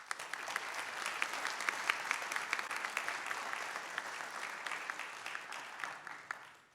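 An audience at a provincial election all-candidates debate on North Island applauds the candidates, a dense, steady round of clapping that holds for several seconds and then tapers off, with no voices over it.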